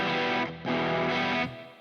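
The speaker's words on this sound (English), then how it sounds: "So here's the boost of the Hughes Kettner." Electric guitar played through the boost of a Hughes & Kettner Black Spirit 200 amp, a driven, distorted tone with two sustained chord strums separated by a brief dip, loud and alone.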